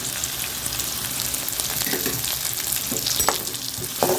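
Onion and curry leaves fry in hot oil with a dense, loud, continuous crackling sizzle, a few stirring taps near the end.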